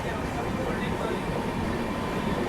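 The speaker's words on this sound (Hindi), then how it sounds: "स्पेशल ट्रेन ने स्पीड पकड़ ली है" A special train passes at speed alongside the listener's train on an Indian Railways route from New Delhi, giving a dense, steady rumble and rush that stays loud and close throughout.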